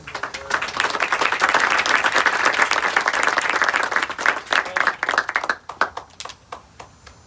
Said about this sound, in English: A round of applause for Dr. Kelly.